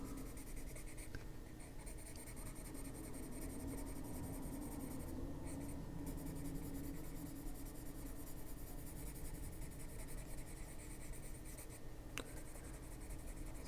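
Colored pencil scratching steadily across paper while shading blue into the dark shadowed corners of hydrangea petals, a faint continuous rubbing close to the page with a brief pause partway through.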